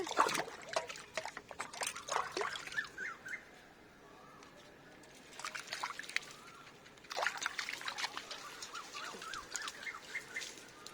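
Water trickles and splashes from a can onto jasmine plants in a rooftop garden, in two clear bursts separated by a quieter gap, with faint birdsong in the background.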